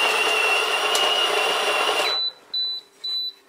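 A GIVENEU conical steel burr coffee grinder whirs loudly and steadily while grinding fine, then stops and gives three short, high electronic beeps.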